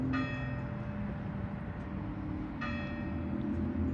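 Church bells in Porto, Portugal ring with two clear strikes about two and a half seconds apart, fairly faint over a steady street hum.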